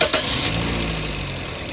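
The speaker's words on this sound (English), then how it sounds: "Now I'm going to start the vehicle." A car engine in an automotive lab, being tested for its MAP and MAF sensors, catches with a brief burst and settles into a steady, close, loud idle hum for under two seconds, with no speech.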